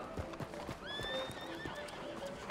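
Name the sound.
horse neighing and hooves in video game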